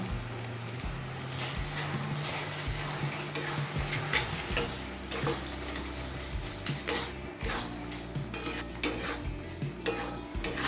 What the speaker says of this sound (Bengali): মিডিয়াম ফ্লেমে মিষ্টিটা গলে আসা পর্যন্ত নাড়তে থাকবো